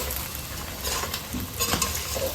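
Pork pieces for Coorg-style chudles are stirred and fried in a pan, a close crackling sizzle broken by several spatula scrapes and stirs.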